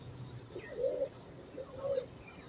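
Two soft, low coos from an Indian Surkha pigeon about a second apart, close by, over a faint background hum.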